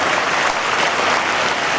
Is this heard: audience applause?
yes